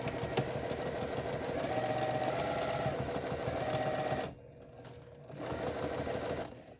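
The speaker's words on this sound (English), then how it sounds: "All right, so I'm at the sewing machine." A sewing machine stitching a zipper seam at a quarter inch, a fast steady mechanical whir running close for about four seconds, a short pause, then resuming.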